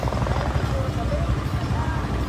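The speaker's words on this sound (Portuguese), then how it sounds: "Há um helicóptero." A helicopter drones overhead above the city of Sobral, a steady low rotor rumble under people talking nearby.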